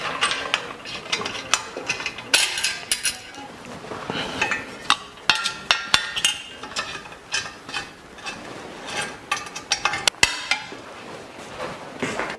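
Metal tool clicks and ratchet-like turns while an Allen key works on the steering of a Vélobecane electric bike, giving irregular close taps and clinks with occasional sharp knocks.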